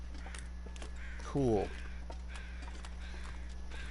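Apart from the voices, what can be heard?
crows cawing in video game The Long Dark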